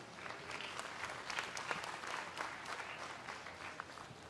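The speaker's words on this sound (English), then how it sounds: "let's give this group of exhibitors a big round of applause" Applause from the crowd at a 4-H/FFA market lamb show at the Umatilla County Fair, honoring a group of exhibitors; steady, dense clapping from a moderately distant audience, holding even for the whole stretch.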